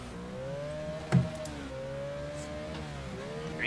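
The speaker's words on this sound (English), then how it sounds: "It's all that engine sound." An iRacing Ford Fusion Gen 6 race car engine at Daytona whines steadily, its pitch rising and shifting between gears, with a brief thump partway through.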